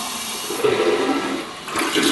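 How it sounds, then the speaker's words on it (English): Toto Neorest 500 toilet flushing, a loud rushing surge of water that swells, dips briefly, then surges again close by, with no voices. "Should we try another flush?"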